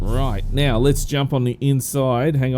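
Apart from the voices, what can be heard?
No distinct noise like a dog, phone or traffic.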